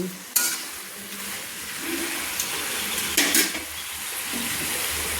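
Fish head and mixed vegetable curry in a pan, just topped up with water and stirred with a metal spatula: a continuous simmering hiss with a few sharp scrapes and clinks against the pan, close and fairly loud.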